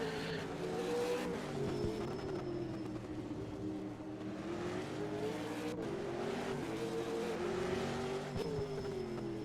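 V8 Supercar engines roar in the rFactor 2 racing game at a Tasmanian sprint round, with steady high revs rising and falling through gear changes and tyres squealing as the cars slide.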